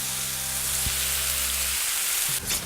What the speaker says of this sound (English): we're going turkey seasoned side down into the garlic